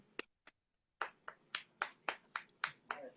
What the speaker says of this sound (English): That's the golf clap